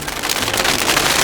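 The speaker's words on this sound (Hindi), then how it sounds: "यहाँ तो बारिश हो रही है।" Steady cartoon rain pours in a dense, even hiss that fills the whole stretch, loud and close with no gaps.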